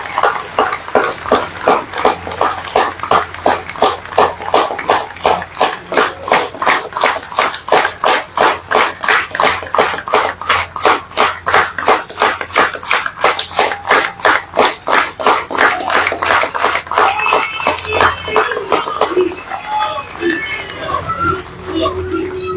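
A large political rally audience stands to welcome Modi with rhythmic, loud clapping in a fast steady beat, mixed with crowd voices chanting along, fading into looser noise near the end.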